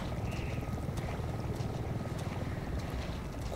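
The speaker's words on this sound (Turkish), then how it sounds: "Helikopter sesi." Helicopter in the video game Resident Evil 7 Biohazard, a steady low rotor drone with broad wind-like rush holding evenly throughout, moderately loud and with no talking over it.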